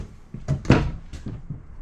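Drawers in the kitchen of a 2021 Alliance Valor 41V15 RV slide open and shut, giving a few quick close-up thuds and knocks, the loudest in the middle.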